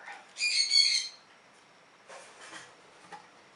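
Shrill, squawky bird calls burst out for about half a second, then softer chattering calls follow, fairly close in a quiet room.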